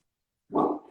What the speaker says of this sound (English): You might hear my dog barking.